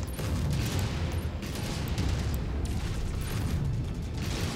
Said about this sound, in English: That aggravating gunfire from the ACs are definitely making it hard to shoot back.